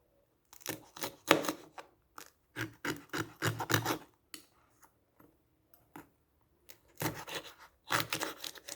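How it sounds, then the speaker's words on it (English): A knife cuts through hot peppers for pickling in short, crisp rasping strokes, close up, in quick clusters with brief silent gaps between them. "I'm just going to cut them and put them in the bottle."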